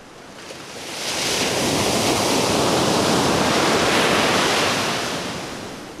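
Ocean surf breaking at a beach, a steady broadband roar that swells after the first second and holds loud and close before easing slightly at the end, with no voices.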